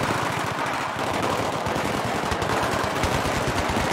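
Machine guns mounted on vehicles in Battlefield 3 fire a loud, unbroken stream of rapid shots that stays dense and close throughout.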